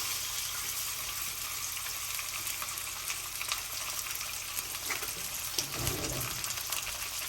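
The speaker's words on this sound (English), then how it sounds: "you're going to take your meat and you're going to brown it on both sides" A beef roast browning in a hot pan, a steady close sizzle and crackle that runs throughout, with a brief louder flare near the end.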